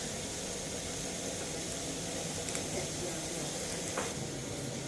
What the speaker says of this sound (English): I'm working with medium-low heat. So I'm just lining my pan